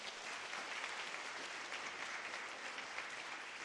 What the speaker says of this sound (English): round of applause for that journey